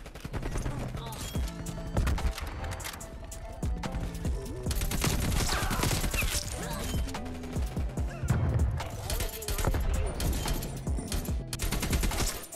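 Rapid automatic gunfire in the video game Call of Duty Cold War, with dense bursts of shots and impacts throughout and a voice talking now and then underneath.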